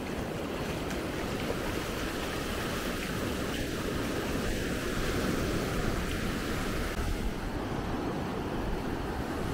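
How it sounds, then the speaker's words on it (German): Wind and surf on the beach at Maspalomas in the Canary Islands, a steady close roar of breaking waves and gusting air that runs without a break. "Der Wind wird etwas kräftiger jetzt."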